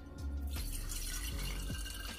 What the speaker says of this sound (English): So I'm gonna put my funnel over there and I'm gonna pour some in.